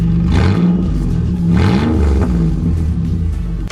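A Chevrolet Impala engine runs with no muffler after the exhaust rotted through, a loud, close, raw rumble that swells twice as the throttle is blipped before settling back to a rough idle.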